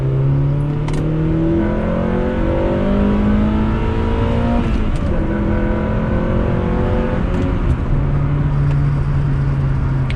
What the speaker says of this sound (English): let's do a little second gear rip again